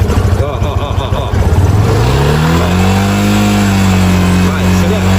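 A Yamaha motorcycle with a weak battery, which barely starts, revs its engine loudly and up close, the pitch climbing and then holding steady, while people talk over it.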